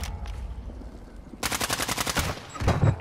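Rapid automatic gunfire from the Call of Duty: Warzone video game, on the Al-Malraz map at night, breaks out suddenly after a quieter stretch and continues as a steady, loud, close burst of evenly spaced shots.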